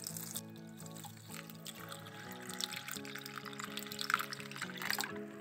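One and a half cups of rice are washed in water in a kitchen before soaking, giving a soft sloshing and pouring sound that continues steadily over background music.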